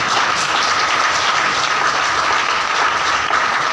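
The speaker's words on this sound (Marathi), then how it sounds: "टाळ्या वाजवूया." A church congregation claps loudly together, producing dense, continuous applause that stays steady and unbroken throughout.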